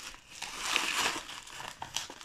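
Crinkly plastic packaging around a small bottle of Burberry London perfume being unwrapped, a few soft close-up crackles and rustles in short bursts, fairly quiet.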